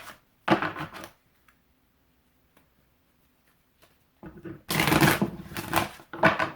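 Tarot cards riffled and shuffled by hand during a Valentine's Day reading, a short close burst, a long quiet pause, then longer crisp shuffling bursts.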